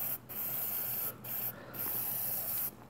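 Close, loud hissing from a spray paint can, painting an umbrella stand, comes in several long bursts separated by short pauses.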